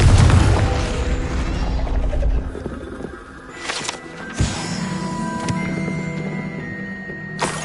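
A Confringo blasting spell in Hogwarts Legacy detonates with a heavy booming roar that rumbles for a few seconds, followed by fainter thuds and whooshes and a lingering tonal ring of spell effects.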